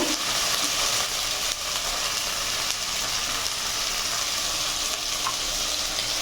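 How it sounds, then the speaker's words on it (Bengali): Spices sizzle and fry steadily in a hot pan while being stirred for a duck curry, a continuous loud hiss running throughout with no talk. "নিয়ে আমি মশলাটা ভালোভাবে কষিয়ে নেব"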